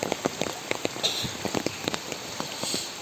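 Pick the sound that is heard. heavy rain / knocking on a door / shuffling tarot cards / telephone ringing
heavy rain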